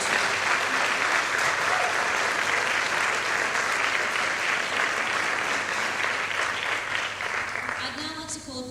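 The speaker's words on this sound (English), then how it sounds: "Can we just please give Miss Inab another round of applause?" Sustained, dense applause from a large audience at a dinner fills the space, holding steady before beginning to thin out near the end.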